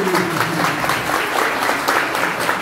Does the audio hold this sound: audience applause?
yes